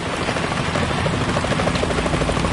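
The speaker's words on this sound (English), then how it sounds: "Is that a chopper I just heard?" Steady rhythmic thumping of helicopter rotor blades, loud and continuous, with a dense engine roar filling the background, from the video game Metal Gear Solid 2.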